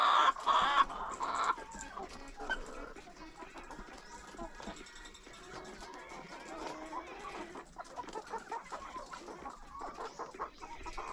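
Young chickens on a small farm cluck and murmur close by, with a louder squawk at the start, while a person talks quietly underneath in Tagalog.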